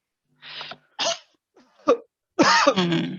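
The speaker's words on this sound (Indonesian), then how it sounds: "setelah itu diakhiri dengan batuk" Several short, forceful coughs in separate bursts as part of a breathing exercise, the last a pair of stronger coughs, close and clear with silence between.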